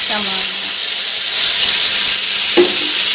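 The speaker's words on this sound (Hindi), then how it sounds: "प्याज लहसुन मिर्चा के फोरन दे के भाजी ला बघारबो" Onion, garlic and chili tempering sizzles loudly and steadily in a hot pan, a dense hiss with faint tonal clinks.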